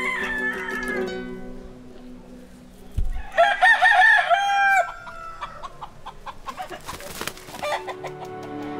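Fighting rooster in Haiti crowing loudly nearby, several full cock-a-doodle-doo calls with clucking between them and other fowl in the background.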